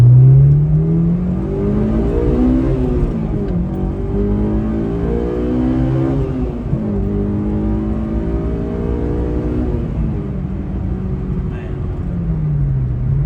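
A Honda S2000 engine with an air box mod and Revel aftermarket exhaust revs repeatedly, pitch rising and falling in sweeping waves, with a deep throaty exhaust rumble throughout; loud and close.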